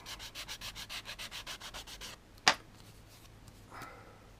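A sanding sponge rubs over a plastic model kit, an Airfix 1/48 Hawker Fury, in about sixteen quick, even back-and-forth strokes, close up. A sharp click follows, then a faint scuff.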